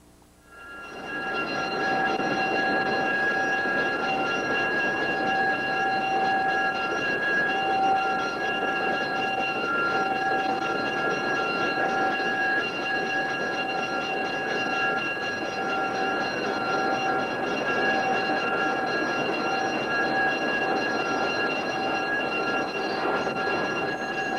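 Railway locomotive number 1070 runs close by during repairs at Lake Whatcom Railway in 1989, with a loud, steady engine drone and a whine of sustained tones that holds unchanged throughout.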